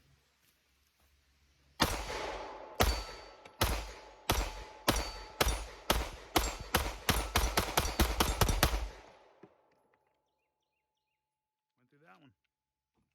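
A Shadow Systems pistol fires a string of about fifteen loud, sharp shots outdoors, spaced at first and then coming faster, followed by silence and a brief word spoken.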